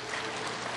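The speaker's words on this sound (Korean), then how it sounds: "우리 한번 큰 박수 한번 해봐요." Congregation applauding in a Korean Sunday church service after a choir and piano performance, a brief steady wash of clapping from many hands.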